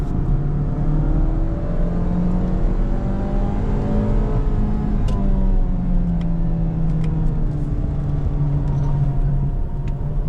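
A Mazda 2 Premium hatchback engine revs steadily higher while accelerating toward peak power near 6,000 RPM, a smooth, continuous, rising drone heard from inside the cabin with no talk.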